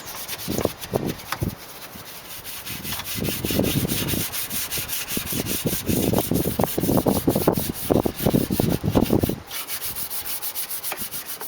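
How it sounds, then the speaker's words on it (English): A wheel brush scrubs the grimy engine bay of a Toyota Carina in close, steady bursts of bristly rubbing, with short pauses between strokes and no voices. "I've also got the wheel brush I use, just to get into more hard to reach areas"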